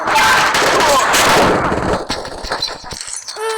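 Video game gunfire, dense rapid automatic shots crackling loudly at first, then scattered single shots fading out.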